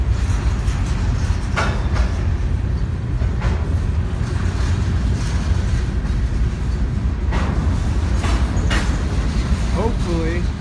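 BNSF freight train bound for Juarez rolling on rails, a loud steady low rumble with faint clicks and squeals, near and continuous.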